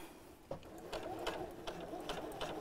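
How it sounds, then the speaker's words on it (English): A sewing machine stitches around a square on a recessed zip project, running in short bursts with brief pauses between runs, fairly quiet and close, with no talking over it. "let's just sew around in a square"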